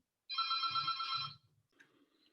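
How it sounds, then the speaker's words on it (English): A telephone rings once indoors, a clear electronic bell-like tone lasting about a second, close and moderately loud, followed by quiet room sound. "Let me get that phone."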